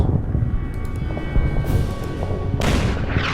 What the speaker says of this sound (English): Hit them once with the artillery.